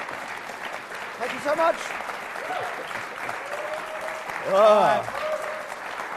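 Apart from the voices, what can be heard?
audience applause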